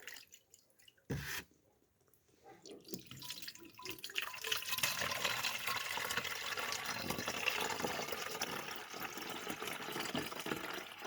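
Water pours steadily into a sprayer after a brief knock, a continuous splashing fill that runs on at moderate volume.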